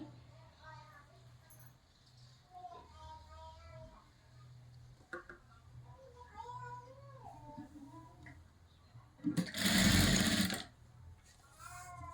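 A sewing machine stitching a katori blouse runs in a short, loud burst near the end, while someone talks quietly through most of the stretch.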